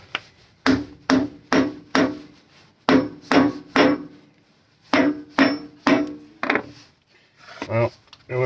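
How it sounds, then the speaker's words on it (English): A soft hammer taps a Burnerd GripTru lathe chuck back plate in a workshop, giving sharp repeated knocks in quick clusters of three or four, close and distinct, with brief pauses between the groups. "So just get myself a soft hammer."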